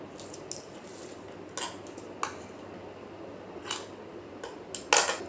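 Scissors cut fabric into a small square for decorating a plain blouse, with a handful of separate crisp snips spaced irregularly over a quiet room background.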